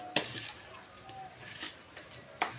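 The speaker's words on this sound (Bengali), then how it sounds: "দিয়ে একটু ভালো করে নেড়ে চেড়ে দেবো এইভাবে" A spoon stirring lentil dal topped with fried cumin in a metal pot: a few sharp scraping clinks against the pot separated by quieter gaps, close and fairly faint.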